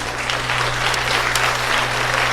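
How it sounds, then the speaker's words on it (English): A crowd claps with delight, a dense, steady patter of many hands applauding at close range without a break. "The crowd clapped with delight"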